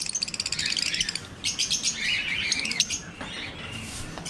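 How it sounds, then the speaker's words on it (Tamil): Lovebirds in an aviary chirp and tweet in rapid, busy bursts, a dense high twittering that carries on steadily, close by and fairly loud, with no talk over it. "இது நம்மளோட லவ் பேர்ட்ஸ்."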